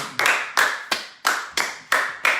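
A church congregation claps in praise of the Lord, seven or so loud, evenly spaced beats of group applause with no talking.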